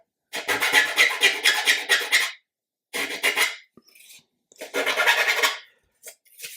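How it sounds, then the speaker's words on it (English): A half round file rasps at a laser-cut wooden deck piece of a 1/80 scale ship model, three distinct bursts of close, brisk back-and-forth strokes separated by silent pauses. "So for the circular one, I'm using a half round file."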